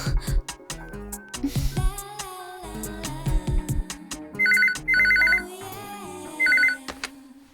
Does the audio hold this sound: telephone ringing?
yes